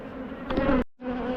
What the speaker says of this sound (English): They're fanning like they've got a queen down there